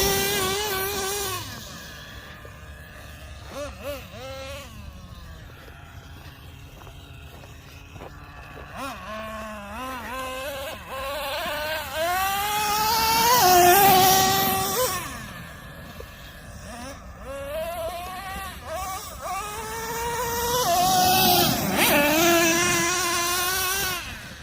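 A Traxxas Nitro Revo 3.3 nitro RC truck engine buzzes and revs in rising and falling high-pitched whines, sometimes near and loud, sometimes farther off, with people talking over parts of it.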